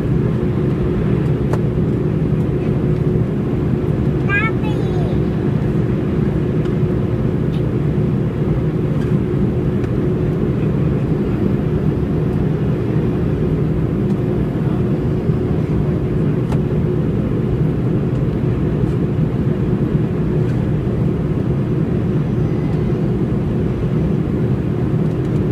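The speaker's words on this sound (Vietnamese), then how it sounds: "Nhà ga Tân Sơn Nhất, thành phố Hồ Chí Minh, ngày 2/11/2016, máy bay cất cánh trời mưa to." An airliner taking off in heavy rain at Tan Son Nhat airport in Ho Chi Minh City, heard from inside as a loud, steady low engine roar and rumble that holds for the whole stretch without talk.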